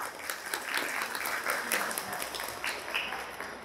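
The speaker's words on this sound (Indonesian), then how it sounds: "Tepuk tangan untuk beliau nih Pak." An audience applauds a religious speaker at a lecture, a steady, fairly distant patter of many hands clapping that carries on without pause.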